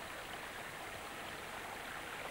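Mountain stream water flowing over stones on a river bed, a steady, dense rushing and babbling wash heard alone at a fairly faint, even level.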